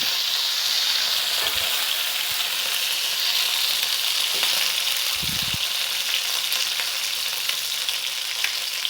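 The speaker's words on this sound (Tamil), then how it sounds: "எண்ணெய் சூடேறிடுச்சு. ஏலக்காய், பட்டை, கிராம்பு போட்டுக்கலாம்." Cardamom, cinnamon and cloves sizzling in hot oil for chicken nombu kanji, a steady bright frying hiss close up with a couple of low thuds, no speech.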